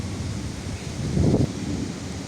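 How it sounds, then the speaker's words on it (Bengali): Wind and rain arrive with a Kalbaishakhi storm as a dense continuous hiss and rush that briefly swells louder near the middle, with no talk. "এই এখন বৃষ্টি আসতেছে।"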